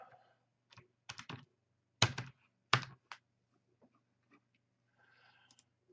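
Scattered keystrokes on a computer keyboard, a few sharp clicks in small bursts with pauses between, quiet and close over a faint steady hum.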